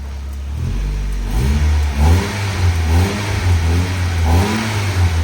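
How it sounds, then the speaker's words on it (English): A turbocharged Nissan S15 engine revs hard several times in a row, each rising burst loud and close, over a steady rumbling idle with no talking. "Rev it again, Eddie."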